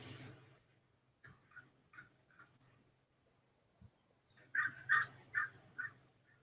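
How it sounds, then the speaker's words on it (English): A crow caws outdoors, a few short, spaced calls at first and then a louder run of harsh caws near the end, over a faint low hum. "it sounds like the Crow has something to say"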